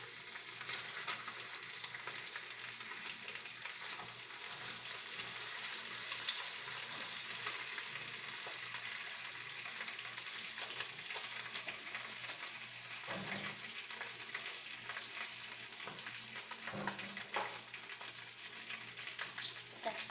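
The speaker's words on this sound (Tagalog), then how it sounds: "Prito lang ng konti para para lumabas yung lasa." Pieces of chicken for chicken afritada sizzle and crackle in a hot pan for a long stretch, with a couple of brief scrapes as they are stirred.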